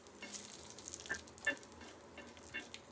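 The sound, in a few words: dry red chillies frying in oil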